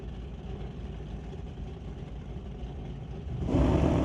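1969 Acadian and Cutlass drag race cars at a drag strip, a low rumbling idle that surges louder into a rev near the end.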